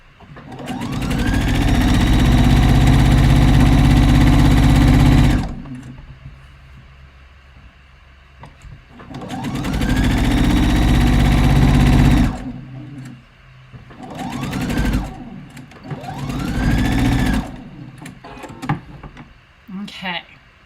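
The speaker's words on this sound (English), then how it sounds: "position this so I can pull it taut while I sew" A sewing machine top-stitches a robe jacket, its motor whirring loud and steady in long runs, then shorter bursts with pauses between, up close while the fabric is held taut.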